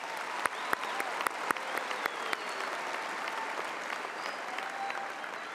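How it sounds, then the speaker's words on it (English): A crowd at a high school commencement applauds honor graduates with sustained, even clapping, a few sharp individual claps standing out early before it settles into a steady wash. "Let's give these honor graduates a round of applause."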